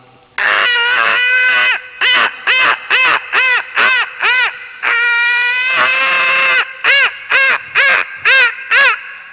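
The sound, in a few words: man imitating a hen's sound while laying an egg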